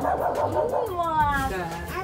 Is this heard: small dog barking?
yes